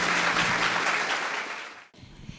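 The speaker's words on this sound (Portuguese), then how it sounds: "Uma salva de palmas para a Gabi." Audience gives a warm round of applause, thick and continuous, then tapers and cuts off abruptly, followed by a brief quiet with a faint stray sound.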